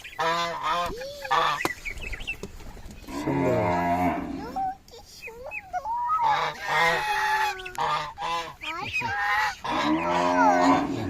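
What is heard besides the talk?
geese honking on a small home farm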